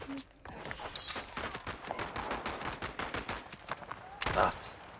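Rapid bursts of gunfire from the video game Voidtrain, with repeated shots fired in quick succession at moderate loudness and a louder burst near the end.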